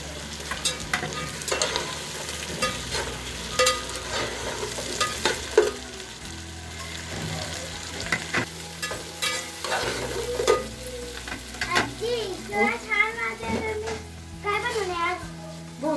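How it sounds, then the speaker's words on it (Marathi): Field beans (pavta) sautéed and stirred in a pan in a home kitchen, with sizzling frying and repeated scraping strokes of a spoon, while voices, including a child's, talk nearby. "हे पावटे सगळे असे एकत्रित त्या परतून घ्यायच्या असतात चांगले"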